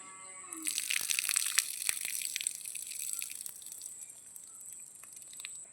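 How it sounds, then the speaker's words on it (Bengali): Rinse water tipped out of a bowl of washed raw green mangoes: a brief gushing pour and splash, then a softer trickle and drips nearby. "দেখো আমরা এই আমগুলোতে একটু ধুয়ে নিচ্ছি জল দিয়ে এবার এই জলটা আমি ফেলে দিচ্ছি"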